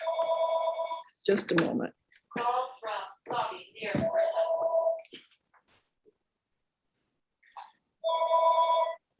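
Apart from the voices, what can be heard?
telephone ringing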